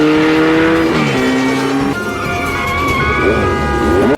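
A motorcycle engine revs hard during a street chase, loud throaty roaring with shifting pitch and a tire squeal, while people shout over it.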